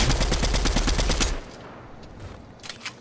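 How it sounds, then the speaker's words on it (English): Gunfire in the video game Fortnite: a rapid, loud string of shots in even succession for just over a second, then quieter scattered game sounds. "someone sniped at you"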